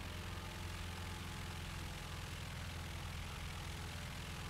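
Propeller engine of an IAR 81C fighter in flight in a combat flight video game, a steady, dense droning roar with a low throb that holds constant throughout, with no talking.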